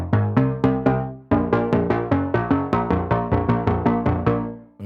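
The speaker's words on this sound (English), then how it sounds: "Now for the bass pump, which sounds like this." A synthesizer bass pumps in steady rhythmic pulses, each note swelling then cut off, with a brief pause before the pattern resumes; a recreation of a song's bass.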